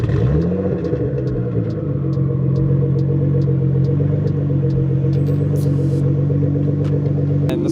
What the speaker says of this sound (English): It's a Meister shaft exhaust, so it's pretty loud.